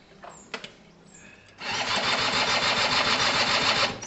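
A Gilera DNA 125 two-stroke scooter engine starts after a few faint clicks and then idles with a steady, buzzy, rapid putter, moderately close and alone.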